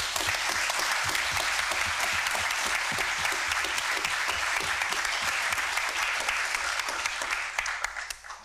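Sustained audience applause in a lecture hall at Uppsala University after a climate change leadership lecture, a dense steady wash of many hands clapping that carries on loudly and fades out at the end.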